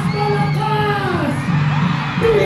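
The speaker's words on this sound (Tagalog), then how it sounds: "Mga kabayan, sumigaw ng malakas!" A large live-show crowd in Pampanga shouts and cheers loudly, a dense roar of many voices with whoops, sustained and close throughout.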